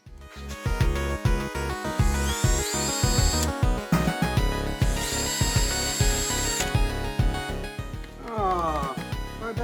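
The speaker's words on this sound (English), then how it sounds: "So we'll use this drill bit." A drill with a thin bit bores into a Game Boy circuit board, giving a loud, steady whirring buzz with rapid rattling pulses and a pitch that rises as the motor spins up and winds down.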